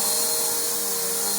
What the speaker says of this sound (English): It's still vacuuming it real good.